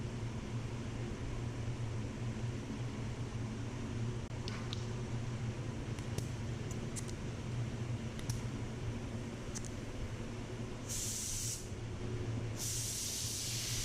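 A spray gun lays a second light coat of paint on a BMW M4, a steady close hiss over a low droning hum, with two louder bursts of spray near the end.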